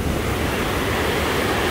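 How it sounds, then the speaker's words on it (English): Glacier-fed waterfall in the Rocky Mountains, heard as a loud, steady roar of rushing water with wind buffeting the microphone, constant and close throughout. "The water is raging here"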